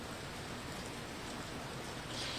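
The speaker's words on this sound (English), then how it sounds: "right now we're definitely seeing some of that freezing rain Taylor was talking about." Freezing rain falls steadily outdoors during a winter storm in South Carolina, a dense, even hiss of precipitation that fills the clip without pause.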